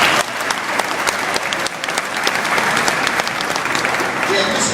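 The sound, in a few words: audience applause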